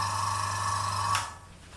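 Small airbrush air compressor running with a steady, fairly quiet motor hum and faint high whine, close by, cutting off abruptly near the end.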